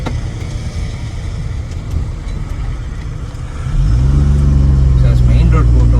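A restored 1984 Maruti SS80 hatchback being driven, its engine and road noise droning steadily and then rising into a louder, deeper hum partway through, heard from inside the car while someone talks over it.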